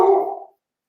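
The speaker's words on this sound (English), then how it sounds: "sorry about that. That's my dog." A dog barks once, close and fairly loud, a short gruff bark that fades quickly into silence, heard in a home during an online work meeting.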